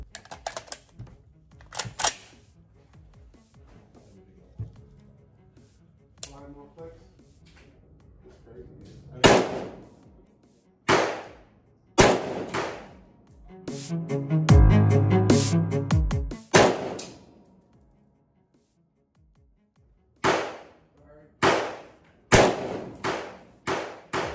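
Rifle shots from an APC308 fired with match ammunition at a 100-yard range, sharp cracks arriving in spaced groups and clusters, some close together, with clicks and handling noise between them and a dense burst of rattling midway.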